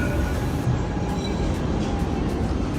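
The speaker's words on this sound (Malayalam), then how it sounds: "tram tram വരുന്നുണ്ടാകും" A tram rumbles past nearby in Bursa, Turkey, with a steady low roar and faint metallic wheel noise, continuous throughout with no talking.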